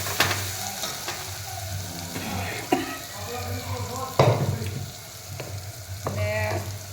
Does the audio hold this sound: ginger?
yes